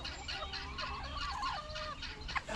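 Fowl clucking and chattering in a backyard garden, several quick overlapping calls, fairly close but soft.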